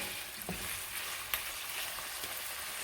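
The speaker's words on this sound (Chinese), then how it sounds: "翻炒2下，使豆腐干上色" Dried tofu strips stir-fried in a hot wok for a pork and garlic chive shoot dish give a steady, close sizzle, with a sharp scrape or clack of the spatula near the middle and a few softer knocks.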